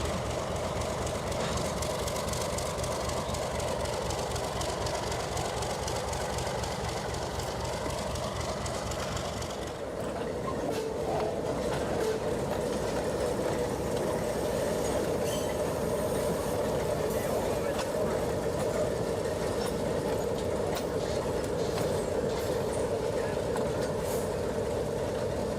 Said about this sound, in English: The signal to cross the diamond at Eagle Junction is cleared, and our train crosses the diamond before reversing down Blue Star Spur.